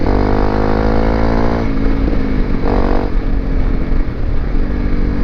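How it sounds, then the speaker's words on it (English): A Honda CRF250L Rally motorcycle is ridden hard and slides around, its engine loud and close with a rising-and-falling buzzing drone as the revs shift, punctuated by brief throttle surges. "This bike is so fun to ride in this sort of atmosphere."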